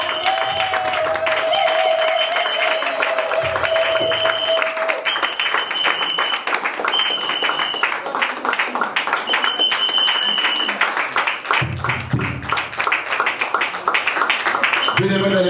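A church congregation at a Christian café event claps and cheers loudly and continuously, with dense applause, whoops and shouted acclamations layered together, and sustained vocal tones rising above the clapping throughout.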